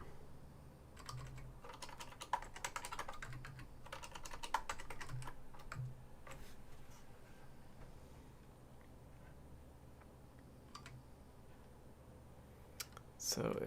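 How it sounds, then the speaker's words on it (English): Steady typing on a computer keyboard, with quick soft key clicks running continuously at low level under light background hiss, thinning out toward the end. "my keyboard's in a new spot,"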